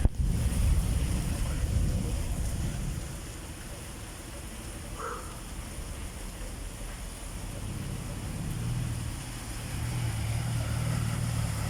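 Floodwater sloshes and laps in waves around a stalled car, reaching its engine, with steady wind rumbling across the microphone throughout; no one speaks.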